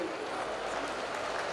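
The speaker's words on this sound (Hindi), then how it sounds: "आपको अच्छा लगे तो जरा अच्छे से तालियां बजाना" A large crowd claps continuously at a university convocation event welcoming the Chief Minister of Uttar Pradesh, a dense, steady wash of applause with voices faintly mixed in.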